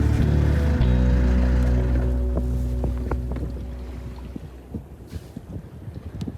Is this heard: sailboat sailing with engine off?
yes